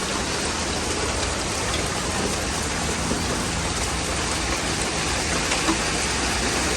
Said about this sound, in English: You see how you can see the rain coming down?